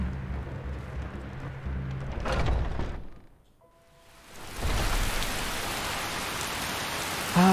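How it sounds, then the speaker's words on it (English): Rain in the video game Skyrim pours steadily as a dense hiss, fades almost away for a moment midway, then returns at full strength, continuous and close. "And rain."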